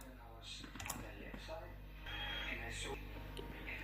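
Faint keystrokes on a computer keyboard, a handful of quick taps in short irregular clusters heard beneath someone talking.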